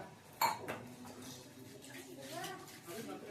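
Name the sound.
washing utensils, pots and dishes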